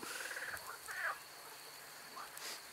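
Frogs croak outdoors at night. Faint, scattered chirping calls rise over a quiet background hiss, with a few short bursts spaced irregularly and coming from some distance away.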